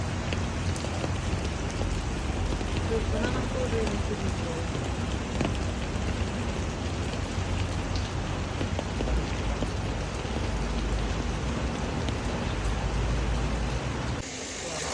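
Steady, heavy rainfall hissing across a surface in Venice, dense and continuous for the whole stretch, with a low rumble underneath and no voices.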